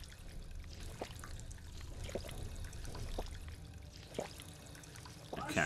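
A character drinks purified water inside a Fallout 4 vault on Survival difficulty, with soft pouring, trickling water and faint gulps recurring about once a second over a low background hum.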